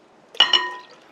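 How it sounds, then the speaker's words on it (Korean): Cooled water is poured into a soy sauce pickling brine with vinegar and rice wine for Korean pickled chili peppers, a short close splash and gurgle lasting under half a second in an otherwise quiet room. "식힌 물을 부어주세요."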